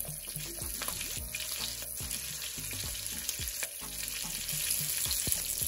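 Honey garlic salmon frying in a pan, a steady, close crackling sizzle with small spitting pops, continuous and alone without talk.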